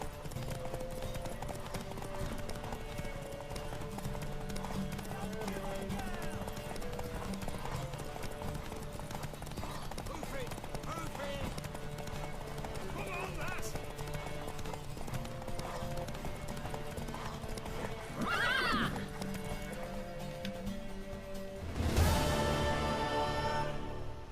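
In The Witcher 3, rhythmic horse hoofbeats clip-clop steadily under a musical backdrop, followed by the horse's sharp whinny and a louder burst of movement near the end.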